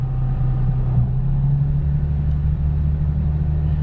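A 2011 Chevrolet Camaro engine runs held just above idle with the AC on max, a steady low droning rumble close by without talk.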